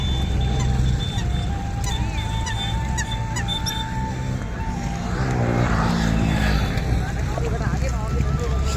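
Ducks honk and quack under steady loud rumbling at Kutch city dam in Bhuj, with water and engine-like noise throughout and people talking nearby.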